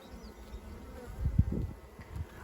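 A swarm of honey bees that has moved into a hive buzzes low and soft, a faint hum. It swells for a moment in the middle of a short, quiet stretch outdoors.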